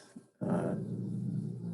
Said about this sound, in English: That's my dog growling